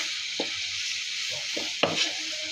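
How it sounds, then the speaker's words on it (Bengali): Turmeric, chili, salt and ground coriander frying in a pan, a steady soft hiss with a few faint stirring scrapes and one sharper clink partway through. "হলুদ, মরিচ, লবণ, ধনিয়ার গুঁড়ো দিয়ে আরও কিছুক্ষণ সময় আমি ভেজে নিব।"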